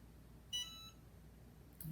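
A short, faint electronic beep from a heat press sounds once, with a second brief tone starting near the end, over a quiet background hum.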